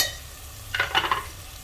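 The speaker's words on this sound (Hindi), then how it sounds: "और टमाटर के साथ इसे एक बार चला लेंगे।" A spoon stirs chopped tomato and green chillies into a bottle gourd and potato curry frying in a pan. There is a short scraping burst of stirring over a faint sizzle, close up.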